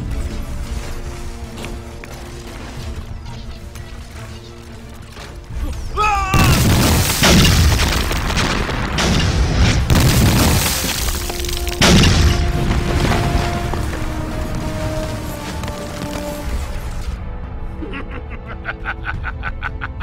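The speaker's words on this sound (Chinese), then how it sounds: "拿轰天雷给我炸了！" Explosions from thunder bombs in a Chinese costume action movie: loud booming blasts with crashing debris and rumble erupting partway through, layered over a music score, with brief voices and sound effects.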